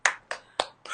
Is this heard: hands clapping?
yes